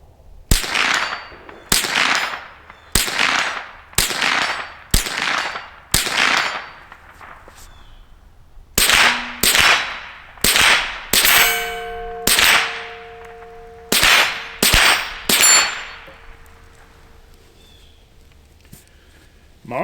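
A Marlin Model 60 .22 rifle fires about fifteen sharp shots, each followed by a brief ringing metallic ping from a steel target. The shots come in two unhurried runs separated by a short pause, with a quiet gap at the end.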